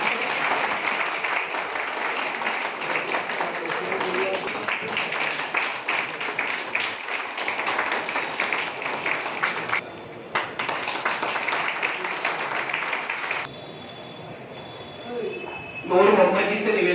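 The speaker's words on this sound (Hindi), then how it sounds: "जोरदार तालियों से स्वागत कीजिए।" An audience at a street vendors' voter awareness meeting in Varanasi claps loudly to welcome a guest, with dense, sustained applause that dips briefly and is joined near the end by a voice over a loudspeaker.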